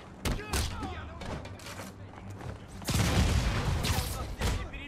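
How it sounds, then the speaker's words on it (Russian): A rocket fired for a rocket jump in a video game bursts as sharp, loud blasts and thuds, with a second heavier burst later, while a person talks over the action. "Он под себя там выстрел, рокет джамп решил сделать."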